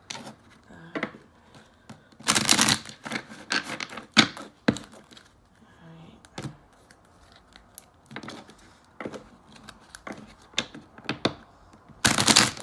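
Tarot cards being shuffled in bursts of crisp riffling and soft taps, close and fairly quiet, with pauses between shuffles.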